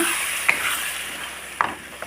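Oil sizzles softly and steadily as masala sautés in a pan for fish curry, with a few sharp clinks of a spoon stirring.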